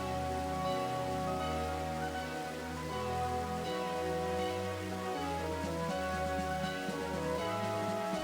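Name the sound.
rain falling in the video game Pokemon Black 2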